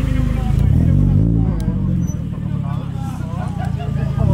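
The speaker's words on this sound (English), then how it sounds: "Got another 350 coming in." A Nissan 350Z rolls in to a Korean car meet, its low engine rumble steady beneath a hubbub of nearby crowd chatter, with people talking close by.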